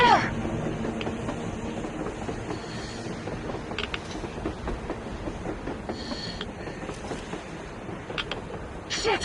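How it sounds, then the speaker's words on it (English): A train rolls along on the surface in the Metro Exodus game world, a faint, distant rumble with soft clattering and wind, steady for the whole stretch with a few brief louder rattles. "A damn train on the surface!"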